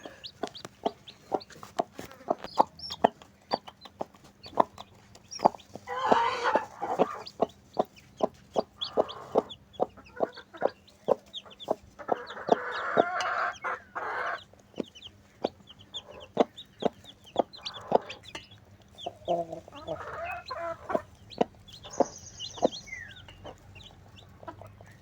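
A hen clucks in soft, scattered bursts among a brood of newly hatched chicks, mostly black with one red, whose rapid high peeps sound continuously and close by.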